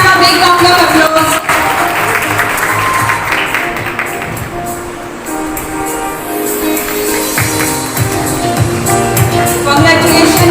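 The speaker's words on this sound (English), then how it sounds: "Give them a big round of applause." An audience at a school celebration claps steadily for several seconds for award winners, with crowd murmur and some voices mixed in.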